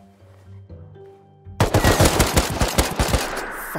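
AK rifle gunfire in the survival video game Rust: after a quiet stretch, a loud, rapid automatic burst erupts and keeps going, sharp close shots in a fast rhythm until the end.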